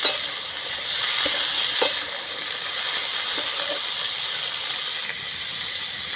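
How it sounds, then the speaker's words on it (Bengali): Potato pieces and eggs fry in a pan with a soft steady sizzle and hiss, broken by a few light scraping stirs, close and moderately loud with no speech. "আলু টুকরো আর ডিমগুলো ভালো করে নাড়াচাড়া করে নেবো"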